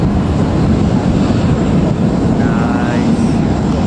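A Jet2 airliner at Newcastle Airport gives a steady, loud broadband engine roar that fills the whole stretch without a break, with a faint rising whine near the end.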